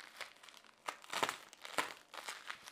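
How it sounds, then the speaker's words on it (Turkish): Plastic packing material pulled off a delivered 50x70 cm LED softbox package, close crinkling and crackling in irregular bursts with brief pauses, no talk. "Sonra şöyle patlarımızı açalım."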